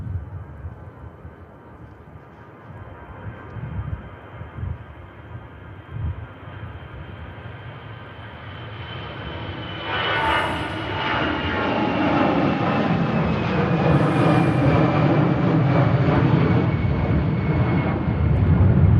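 The jet engines of an EasyJet airliner at Manchester Airport, a low rumble that slowly swells into a loud, sustained roar with a whining tone over it as the aircraft passes close by.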